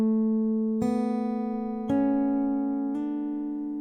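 A nylon-string guitar plays a short riff, with four clear plucked attacks and sustained ringing notes between them, slurred hammer-on changes, close and alone with no talking.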